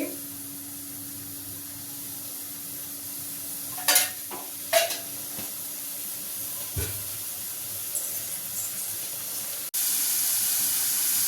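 Green chillies fry in about two spoons of oil for a tomato chutney, giving a faint, steady sizzle with a few brief spoon scrapes and clinks in the middle, then a sudden louder hiss near the end.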